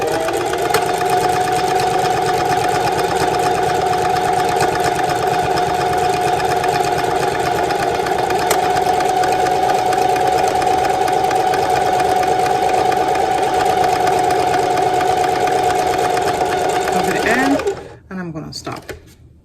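A sewing machine stitches a buttonhole on a fabric wallet, its loud steady mechanical whir running continuously for about seventeen seconds before stopping abruptly, followed by brief handling sounds.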